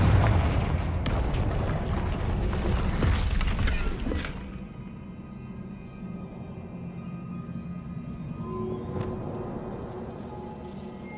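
A Confringo blasting spell in Hogwarts Legacy erupts as a loud, sustained burst of explosive crackling and shattering debris for several seconds, then dies away into a lingering rumbling ambience with no talking.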